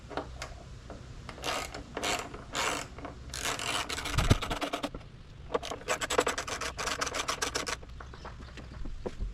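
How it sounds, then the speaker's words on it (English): T25 windshield bolts backed out with a ratchet: bursts of rapid clicking and rasping pawl ticks, close by, stopping and starting as each of four bolts is worked loose. "Remove these 4 bolts for the windshield."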